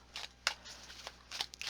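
Tarot cards being shuffled by hand in a quiet room for a card reading, giving soft, faint riffling and brushing bursts at an uneven pace with no talk.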